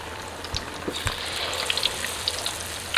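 Battered onion rings deep-fry in hot oil with a close, steady sizzle broken by a few sharper pops and crackles.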